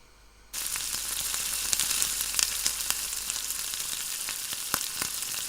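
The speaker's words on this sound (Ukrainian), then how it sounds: "Зараз почнемо їх обжарювати в олії." Small yeast-dough pirozhki hit a very hot oiled frying pan, and a sudden loud sizzle begins after a brief quiet moment, then crackles steadily with scattered pops close by.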